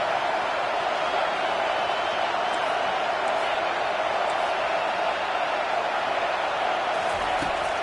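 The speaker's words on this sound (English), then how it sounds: "how nice is it to have the home crowd going absolutely bananas?" Loud, steady roar of a home crowd cheering in a football stadium during a game, a dense wash of voices sustained throughout with no pauses.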